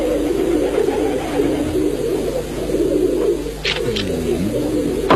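A homing pigeon coos steadily in a soft, continuous low murmur, with a couple of brief brighter sounds near the end, fairly close and without speech.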